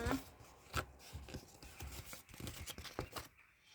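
Crinkly tearing and snipping of packaging, with several sharp cuts and rustles close by, then a brief quiet spell.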